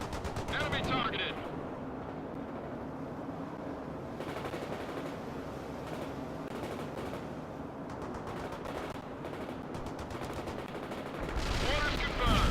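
Rapid bursts of gunfire from tanks and infantry in the World in Conflict Soviet Assault campaign, a dense, steady barrage of shots and explosions running the whole stretch with brief radio-style voice lines mixed in.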